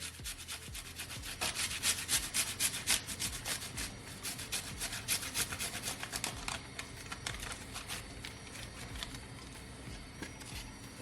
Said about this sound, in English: I'm gonna grate my ginger. You just wanna grate it like so.